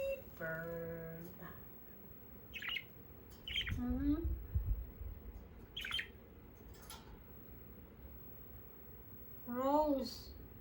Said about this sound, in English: Cute baby bird.